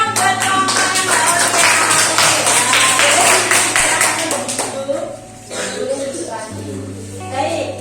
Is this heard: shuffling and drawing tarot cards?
no